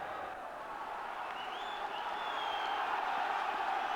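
A big, noisy football crowd at a 1992 Partick Thistle v Forfar promotion match roars and claps in a dense, continuous wash of cheering that swells slightly toward the end.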